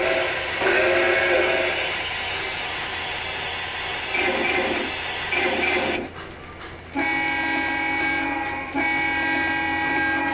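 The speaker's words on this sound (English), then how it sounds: "play a couple of sounds from the train here for you" Recorded train horn sounds play loudly in a shop, sustained toots in several bursts with brief gaps between them and no talk over them.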